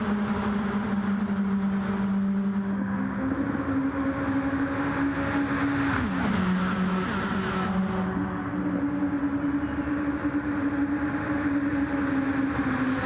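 Race cars in Gran Turismo 7 drone around the Daytona oval in a steady, continuous engine whine with shifting pitch as the pack runs together, no talking over it.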